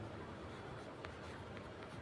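Chalk or marker writing on a classroom board during a Hindi general-knowledge lesson, with a steady dense scratching texture and a few short tapping strokes, close and continuous for about two seconds.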